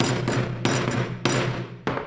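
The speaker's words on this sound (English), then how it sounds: "just take the hammer and" A hammer taps a stitching prong punch through leather, landing four sharp, close strikes at uneven intervals, each followed by a short ringing decay.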